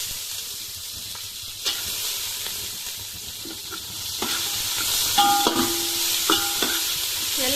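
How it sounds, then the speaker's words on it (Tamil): Coconut sizzles and hisses in a hot frying pan while a utensil stirs and scrapes it now and then, steady frying throughout. "நறுக்கி வச்சு இந்த தேங்காய் நான் இப்போ இது கூடவே சேர்த்துக்கிறேன். கொஞ்சம் சும்மா ஒரு வதக்கி போட்டு எடுத்துக்கலாம்"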